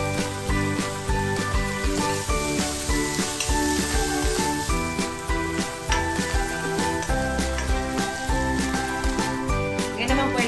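Onion and butter sizzle steadily in a hot pan, a constant close frying hiss heard under loud background music.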